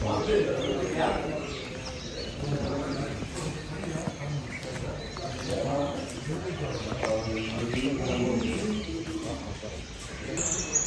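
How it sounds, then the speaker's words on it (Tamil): Morning bird calls, including peacocks and koels, sound repeatedly at varying distances over steady outdoor background noise, with voices audible at times. "இந்த பேர்ட்ஸு சவுண்டு, இந்த மயில் குயில் இதெல்லாம் சூப்பராக இருக்குது கேட்குறதுக்கு."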